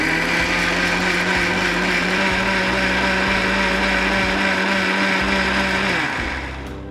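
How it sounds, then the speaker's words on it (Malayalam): A mixer grinder grinds curd with green chillies for an okra pachadi, a loud, continuous motor whir with churning that runs steadily and then winds down near the end. "എല്ലാം കൂടി ചേർത്ത് നമ്മൾ അരയ്ക്കാണ്."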